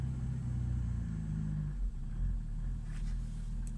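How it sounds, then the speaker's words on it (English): A Mercedes OM603 diesel engine, cold-started and running on 80% waste vegetable oil, idles with a steady low rumble and droning hum that stays fairly even throughout, with no voices. "Right, let's see if she'll idle now."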